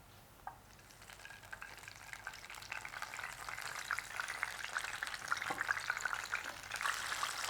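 Karisalankanni leaf juice hits hot oil in a pan, raising a steady, close, crackling sizzle that grows louder over several seconds, with no voices.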